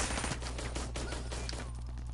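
Rapid bursts of automatic gunfire from a PS4 shooter video game, loud and dense, rattling continuously without a break across the whole stretch.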